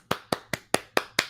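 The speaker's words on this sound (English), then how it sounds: "I will applaud for any time" A single person claps their hands six times at an even, unhurried pace, each clap crisp and close, with no other sound around them.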